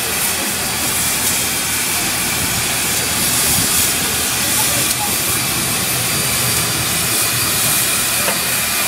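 A steam locomotive on a turntable vents a loud, continuous broadband hiss of escaping steam, close by and unbroken, with a few faint knocks beneath it.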